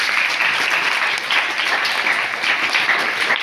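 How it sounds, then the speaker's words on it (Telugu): A church congregation bursts into loud, sustained clapping at a sermon, a dense steady wash of many hands that holds evenly throughout with no voices over it. "గట్టి క్లాప్స్ కొడదామా ఒకసారి?"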